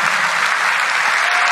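Dense, loud applause from a concert audience at the Slavianski Bazaar festival in Vitebsk, a sustained wash of clapping with no breaks.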